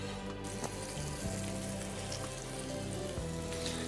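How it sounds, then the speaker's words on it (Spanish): Hake fillets dusted in flour fry in hot oil, giving a steady, close sizzle with faint crackles throughout and a low hum underneath, no voices. "Los pasaremos por harina y los vamos a freír."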